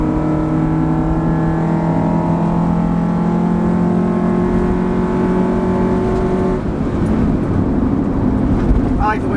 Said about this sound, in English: Equip mine with an aftermarket air intake. Did I need it? No, but I just like to hear this.